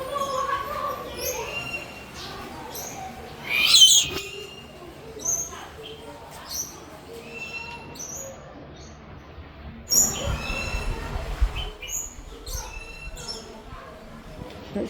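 Free-flying birds inside an aviary at London Zoo chirp and call in scattered bursts, some close and sharp, others further off, under intermittent talk and visitor bustle.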